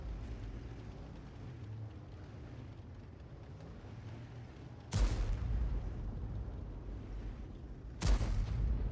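Artillery shells from World of Tanks land on tanks, two sharp loud impacts with rumbling decay several seconds apart over a low steady ambient hum.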